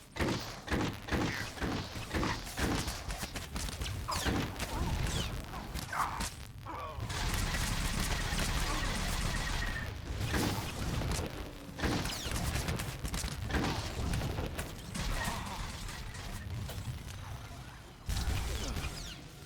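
Dense gunfire erupts in a Star Wars: The Old Republic firefight on Coruscant, with Imperial soldiers trading blaster shots with a trooper. Loud, sustained volleys and heavy impacts dominate, with brief voices mixed in.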